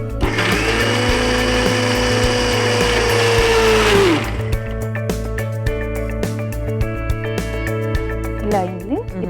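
A kitchen mixer grinder whirs loudly for about four seconds, grinding tomato with lemon juice and a little water into a fine paste for amla rasam, then its motor winds down and light clinks and taps follow.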